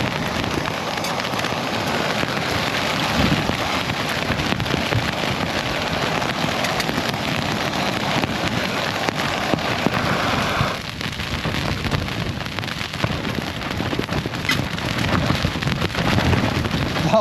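Strong wind buffets a wild campsite on the Fan Llia mountain in Bannau Brycheiniog, a continuous, loud, rough roar with slight surges and no let-up.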